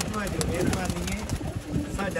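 A flock of about 65 pigeons coos in low, soft, repeated throaty warbles, close by and continuous, with a voice talking over them.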